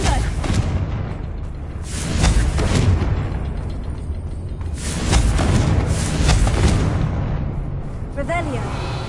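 A Confringo fire spell explodes in the game Hogwarts Legacy, loud booming blasts repeating over a rumbling bed while a person talks throughout.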